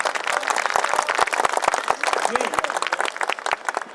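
Thin, scattered clapping from an audience at a talent fair poetry recital: sparse, uneven hand claps that never build into full applause, mixed with background murmur and voices.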